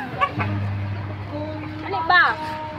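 A red chicken clucks close by in short bursts, with a brief crow-like call near the end, heard over people talking.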